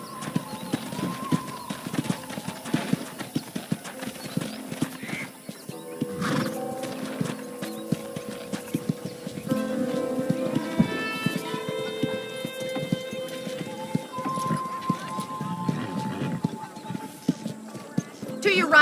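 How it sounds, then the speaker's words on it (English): Hooves clip-clop at a steady run with occasional neighing in Red Dead Redemption, mixed with game music and some talking over the top. "let's see if you can still ride a horse."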